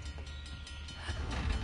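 A moving train in the video game Uncharted: The Lost Legacy, a low steady rumble with faint rhythmic clatter, quiet and without talk.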